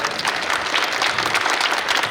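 Applause for an additional collector at a Buldhana district revenue sports event: steady, dense clapping from a crowd, loud and continuous for the whole stretch with no talking.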